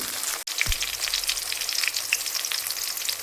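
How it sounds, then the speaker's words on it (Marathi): Chopped onions frying in a pan, giving a steady, close crackling sizzle with small pops throughout and a brief clunk near the start, with no voices. "मस्त कांदा फ्राय व्हायला लागलाय"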